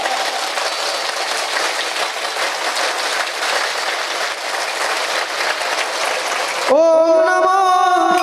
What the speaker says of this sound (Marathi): माझ्या पाठीमागे सर्वांनी एक टाळी वाजवायची.